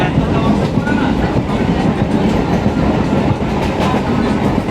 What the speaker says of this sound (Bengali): তো এতক্ষণ ট্রেনটা ছেড়েছে